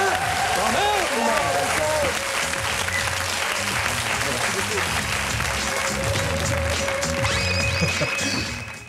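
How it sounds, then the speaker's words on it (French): A French television studio audience applauds loudly at the close of a show, a thick, sustained wall of clapping with cheers and whistles, steady throughout before fading at the end. "Merci d'applaudir cette émission."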